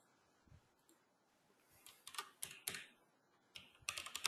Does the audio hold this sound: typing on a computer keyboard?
yes